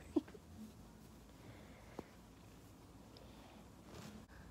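A domestic cat purrs softly and steadily at close range in a quiet room, the low rumble faint but continuous, broken by a couple of small clicks.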